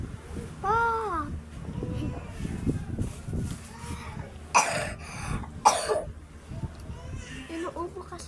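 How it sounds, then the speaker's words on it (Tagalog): A child coughs several times while playing the mobile game Craft Master 3D, with two sharp loud bursts near the middle among softer throat sounds, babble and background chatter. "Inuubo kasi ako."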